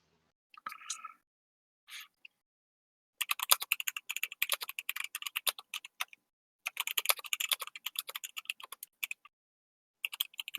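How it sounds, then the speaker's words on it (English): Rapid clicking keystrokes on a new computer keyboard, in two long bursts of dense, uneven tapping, with a few brief isolated clicks before them; fairly close and clear, no talking over it. "I'm getting used to my new keyboard."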